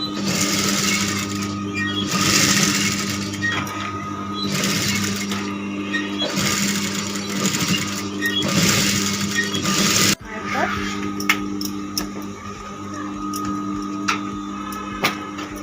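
A sewing machine stitches a blouse in a steady whirring hum with a rhythmic pulsing pattern, close and fairly loud, then stops partway while soft knocks and handling noises continue and a voice talks over parts of it.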